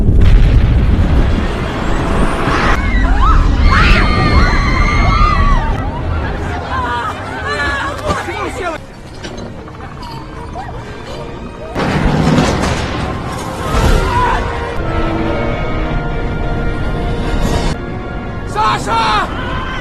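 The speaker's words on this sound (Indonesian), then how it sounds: "Bandara hancur dan terjadi ledakan di mana-mana. Bahkan beberapa pesawat juga meledak." Explosions at an airport during a volcanic eruption in a film scene: heavy booms and rumbling blasts mixed with crowd commotion and shouting voices throughout, loud and chaotic.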